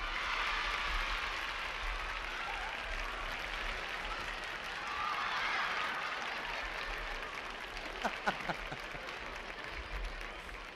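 A live audience at a 1977 Chilean stage show of La Vecindad del Chavo applauds to welcome Señor Barriga, with dense, sustained clapping that thins slightly near the end as a few voices come through.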